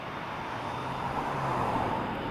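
Airplane taking off at Toronto Pearson airport, heard as a steady, broad engine roar from a distance, holding even throughout.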